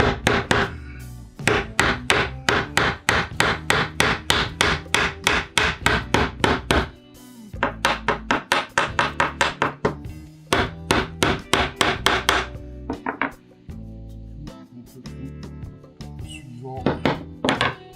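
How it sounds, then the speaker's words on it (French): Hammer tapping small nails into wood while building a bat nesting box, rapid loud knocking bursts in repeated runs with short pauses between them, and a voice occasionally speaking. "on tape un petit clou un petit peu sur la tête de son clou"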